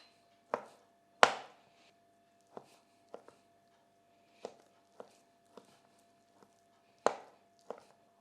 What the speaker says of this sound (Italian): Per prima cosa trito 15 g di arancia candita.